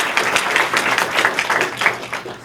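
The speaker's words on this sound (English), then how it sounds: "Let's give them a round of applause." A small town hall audience clapping for a panel of community leaders, a brief patter of moderately loud hand claps with an uneven rhythm, without talk.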